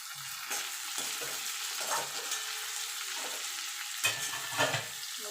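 Sliced onion and capsicum stir-fried for chilli chicken, a soft steady sizzle under occasional scraping stirs of a spatula in the pan, close and fairly quiet, no voices.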